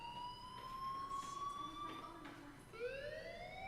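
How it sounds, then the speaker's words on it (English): Fire alarm sounding in a video game, a loud sweeping electronic tone that rises steadily, breaks off and starts its climb again, heard alone with no talk over it. "Hey, do you hear that fire alarm?"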